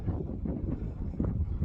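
Gusting wind on a very windy morning in grassland near a sheep pasture, a loud, rough, continuous roar buffeting the microphone with surging bursts.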